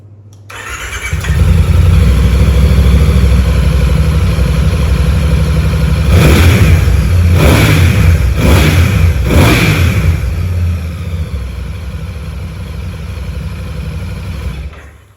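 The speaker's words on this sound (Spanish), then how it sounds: "os podréis hacer una idea de cómo suena esta moto" A Voge DS 800 Rally adventure motorcycle engine starts and settles into a loud idle, then revs sharply several times in quick bursts before dropping back to a rumbling idle.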